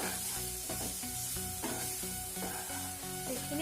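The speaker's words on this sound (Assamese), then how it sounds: "ভালদৰে মিহলাই থাকিব লাগিব যেতিয়ালৈকে আমাৰ তেলটো বিৰিঙি নুঠে" Spice mix with chilli powder frying and being stirred in hot oil, preparing a chicken and taro dish, giving a steady close sizzle with repeated scraping stir strokes throughout.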